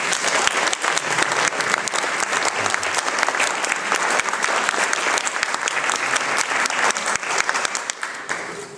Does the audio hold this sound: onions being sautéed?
no